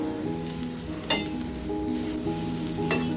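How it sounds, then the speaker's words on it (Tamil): Grated carrot sautéing in ghee for sugar-free carrot halwa over a low flame, a soft continuous sizzle with two sharp clinks of a spoon against the pan and light stirring, close by. "அதே நெய்யில் துருவி வச்சுருக்க கேரட்டை பச்சை வாசனை போகிற வரைக்கும் நல்லா வதக்கணும்"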